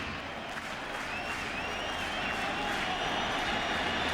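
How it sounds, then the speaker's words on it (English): Baseball stadium crowd at a World Series game rising to applaud Yankees outfielder Paul O'Neill, a steady, broad wash of clapping and cheering sustained throughout, loud and diffuse with no distinct voices. "This crowd to their feet applauding Paul O'Neill"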